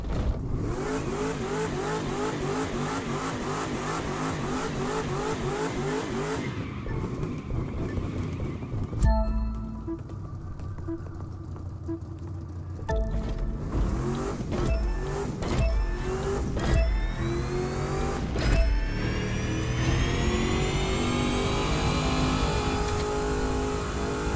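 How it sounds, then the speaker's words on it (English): A modified Porsche 911-style RT35 doing a burnout before a drag race in The Crew 2: a steady engine drone with spinning tires whining, then a break and revving that climbs in pitch. "burn up the tires first"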